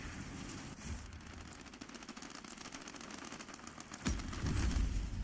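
Aircraft guns firing in the World of Warplanes combat game, rapid bursts of clattering fire with a heavier burst near the end, fairly faint under engine drone.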